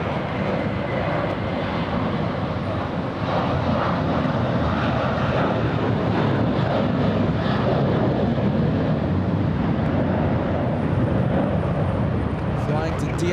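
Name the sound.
American Airlines jet airliner flying to DFW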